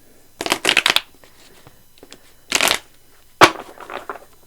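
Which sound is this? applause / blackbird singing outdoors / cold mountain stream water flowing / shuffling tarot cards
shuffling tarot cards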